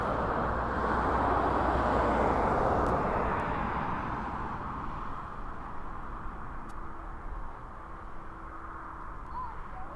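UPS Boeing 767 cargo jet taxiing at East Midlands Airport, a broad engine rumble and hiss that is loudest early and then slowly fades as it moves off, with faint distant bird calls.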